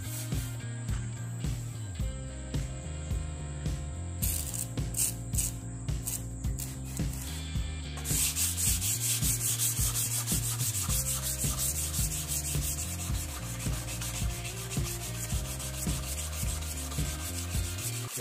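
Sandpaper rubs back and forth by hand over a curved silver Toyota Ipsum body panel backed by a hard block, a steady close scratching rhythm running continuously without talk.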